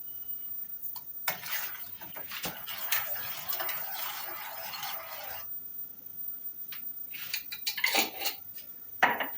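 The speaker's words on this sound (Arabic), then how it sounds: "اقلب كويس معلقة السكر." A spoon clinks and scrapes against a deep bowl while a spoonful of sugar is stirred into water, giving soft rattling strokes followed by a few sharper metallic taps, close by and fairly quiet, with no talking.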